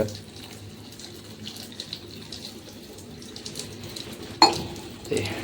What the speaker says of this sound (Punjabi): ਪਾਣੀ ਗਰਮ ਗਰਮ ਹੀ ਪਾਉਣਾ